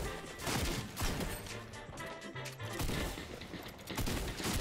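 Rapid bursts of gunfire in a Fortnite match, shotgun and rifle shots cracking in close succession at moderate volume with brief gaps, no talk over them.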